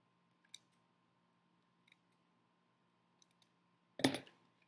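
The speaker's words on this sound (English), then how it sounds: "I just get my scissor really close to it and cut around" Scissors snip contact paper close around a book's binding, a few faint isolated clicks and then one louder crisp cut near the end, in a quiet room.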